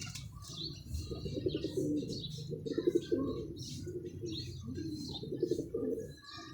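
Pigeons coo softly and repeatedly at a moderate distance in a low, rolling rhythm, with occasional light chirps mixed in.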